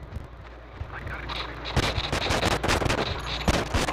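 Rapid gunfire bursts in the video game Manhunt, crackling in irregular volleys over a low rumbling background, loudest in the second half.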